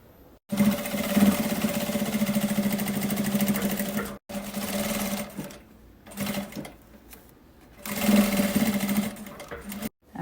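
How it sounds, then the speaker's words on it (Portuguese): A sewing machine stitches fabric in bursts, a loud, close, steady mechanical hum that stops and starts three times with short pauses between runs. "E a gente vai passar uma costurinha de segurança aqui"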